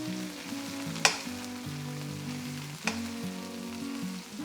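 Cabbage with mustard seeds stirred hard in a pan over high flame: loud steady sizzling with two sharp scraping strokes of the spoon standing out, no voices.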